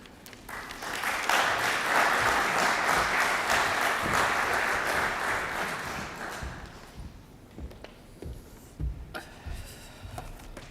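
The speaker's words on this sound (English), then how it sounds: "I invite Mr. Zabalos, EFA's chairman, to receive your applause" A conference audience applauds as the EFA chairman comes up to speak, a loud sustained wash of clapping that fades out after about six seconds, leaving scattered knocks and shuffling.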